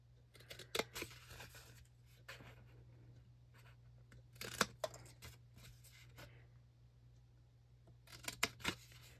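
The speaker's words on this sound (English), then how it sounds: "So we are just going to cut them right off." Paper being cut with scissors to trim squares off a gift card treat holder, heard as several quick, crisp snips in separate clusters over a faint steady hum, with no talking.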